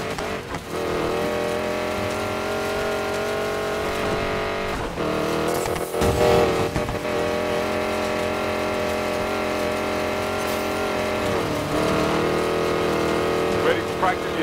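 Hypercar racing engine in Need for Speed Payback, a sustained high engine drone with shifting revs and a few sharp surges, under game voices and music.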